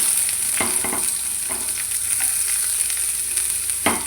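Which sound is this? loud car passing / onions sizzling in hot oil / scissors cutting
onions sizzling in hot oil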